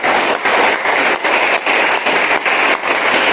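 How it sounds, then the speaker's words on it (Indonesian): A church congregation at an Easter morning service bursts into loud, dense clapping for God, a sustained roar of many hands with a slightly pulsing rhythm and no voices over it. "Tepuk tangan bagi Tuhan."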